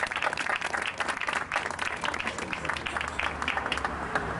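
An audience claps and applauds at a monument inauguration, a dense patter of hands lasting throughout, moderately distant and fairly soft.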